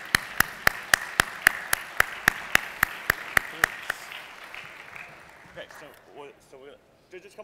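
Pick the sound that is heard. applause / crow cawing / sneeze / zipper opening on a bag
applause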